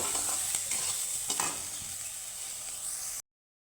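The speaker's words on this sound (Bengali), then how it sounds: "পনিরটা এভাবেই আমি লাল করে একটু ভেজে নেব" Paneer sizzles in hot oil in a pan for a sustained, steady fry with a few stirring scrapes, close and continuous before cutting off abruptly.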